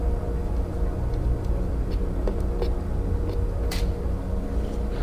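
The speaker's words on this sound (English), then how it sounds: "Well, the pump sounds a lot better." A water pump drawing from a greenhouse tank through a foot valve, freshly cleaned of mud and junk in the impeller, runs with a steady, loud, even drone for the whole stretch, a few faint clicks over the hum.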